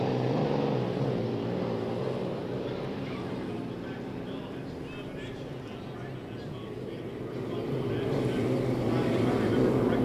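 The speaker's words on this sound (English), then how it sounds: "imagine five hydroplanes like that racing along the race course" A vintage unlimited hydroplane racing boat roars past on a race course, a broad rumbling engine roar that dips and then swells louder toward the end, with someone talking over it.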